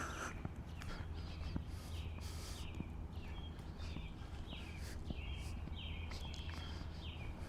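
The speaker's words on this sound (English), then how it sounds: "Can you guys hear the birds? It's evening and the birds are all yelling at each other." Evening birds chirping and calling repeatedly outdoors, a scatter of short high calls over a steady low background hum, moderately faint.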